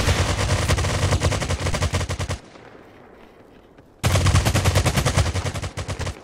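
Rapid automatic gunfire from a free browser first-person shooter game, loud and continuous bursts for over two seconds, a short quiet gap, then another sustained burst of shots.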